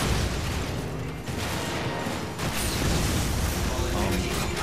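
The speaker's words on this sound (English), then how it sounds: "So just keep reloading and firing," Rocket launcher fire and reloading in the video game Lost Planet during a boss fight, a dense, continuous mechanical clatter with booming blasts, loud throughout with a brief dip midway.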